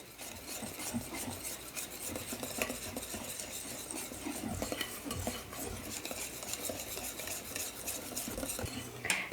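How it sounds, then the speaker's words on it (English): Whipped cream is lightly whisked into eggnog in a bowl, giving a soft, quiet, continuous scraping and tapping of a whisk against the sides, close and steady, with no talk. "And I just lightly whisk this in too."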